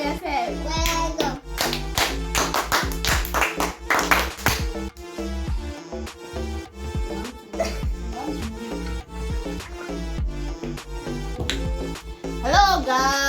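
A young child claps hands in a quick run of sharp claps, loudest early on, over a dense backdrop of voices and tonal sound.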